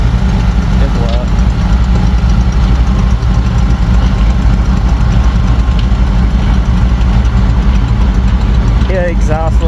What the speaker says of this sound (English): Yeah, exhaust leak. That back manifold gasket.